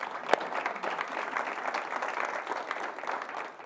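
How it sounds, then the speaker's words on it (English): An audience at a conference session breaks into steady applause, moderately loud and continuous, with one sharp clap standing out near the start. "Clap it out for Stephanie, everybody."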